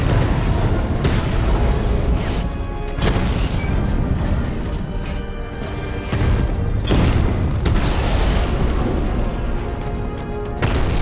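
Heavy booming explosions from a Cauldron unit being destroyed in the video game Batman: Arkham Knight, loud and sustained with repeated blasts and rumbling debris across the whole stretch.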